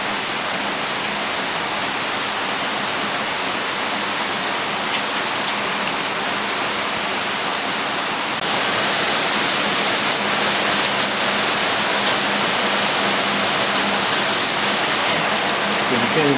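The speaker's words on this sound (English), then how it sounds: "We have leaks in the roof." Heavy rain pours on a log cabin roof with leaks, a dense, steady hiss of water that swells louder about halfway through and continues unbroken, with no voices.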